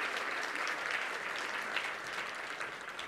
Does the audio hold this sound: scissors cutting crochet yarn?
no